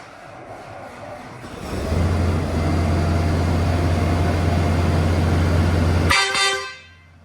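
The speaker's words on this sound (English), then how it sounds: "going to show us how loud the horns are" A very loud, sustained aftermarket vehicle horn on a farm blares for several seconds after a quieter start, then cuts off abruptly with a brief ringing tail.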